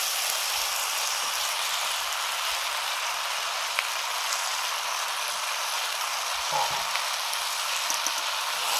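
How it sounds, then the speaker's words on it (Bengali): Fish head and previously fried mixed vegetables sizzle together in a hot pan, a steady, fairly loud hiss of frying that continues throughout with a brief stir or clatter near the end. "এবারে ভেজে রাখা সব রকম সবজি আর মাছের মাথা একসঙ্গে দিয়ে দিচ্ছি।"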